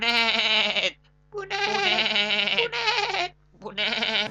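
Goats bleat loudly and close in three long, wavering calls separated by short pauses, with no other sounds around them.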